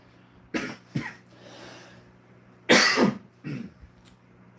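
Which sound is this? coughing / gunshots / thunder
coughing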